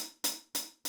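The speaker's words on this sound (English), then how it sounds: "it means the hi-hat is closed and it sounds like this." Three crisp, short closed hi-hat hits from an electronic drum kit, evenly spaced, close and clean with nothing else.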